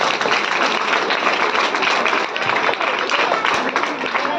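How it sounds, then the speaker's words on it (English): An audience at a school Diwali program applauds, many hands clapping in a dense, continuous patter that stays loud and steady throughout. "Give a claps to her."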